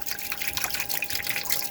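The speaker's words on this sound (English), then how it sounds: "I'm going to push that through, which will push water through the boiler" Hot water gushing and trickling through a Carver Cascade 2 motorhome boiler after a leak repair, a steady close watery rush with no voices.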